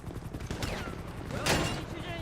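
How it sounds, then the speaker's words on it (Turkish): Gunfire in the video game GTA V, played with a police special operations mod: a couple of sharp shots crack out over busy game noise, with faint voices underneath. "Sıkıyorlar."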